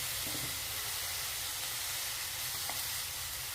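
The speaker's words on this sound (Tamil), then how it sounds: "கொஞ்சோண்டு தண்ணி தெளிச்சுக்கிறோம்." Water sprinkled over beetroot frying in a pan with salt and chilli powder, producing a soft, continuous steamy sizzle and hiss at a moderate distance.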